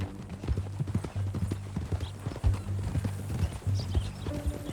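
Horse hooves clip-clop steadily in Red Dead Redemption 2, a close, even trotting rhythm with a low ambient hum beneath it and no voices.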